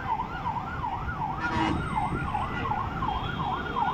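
Fire truck sirens wail in a steady rising-and-falling cycle as trucks respond to a fire in Cabantan, Cebu, heard at moderate distance over a background of street rumble and traffic.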